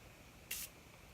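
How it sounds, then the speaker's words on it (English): A single short burst of Morphe Continuous Setting Mist sprayed onto a face hisses close by for about a fifth of a second against a quiet background. "I'm going to take my Morphe Continuous Setting Mist, and I'm going to go ahead and spray that all over my face."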